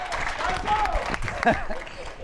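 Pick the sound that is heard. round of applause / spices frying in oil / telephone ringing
round of applause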